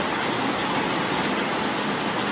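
Steady rain in West Bengal hisses evenly throughout, a dense broadband wash with no voices or distinct drops standing out.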